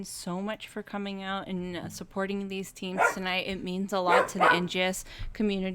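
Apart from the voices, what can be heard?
dog barking in the background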